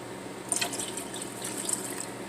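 A cup of water poured into a vinegar brine in a home kitchen, a close, steady splashing pour lasting a couple of seconds with no talking.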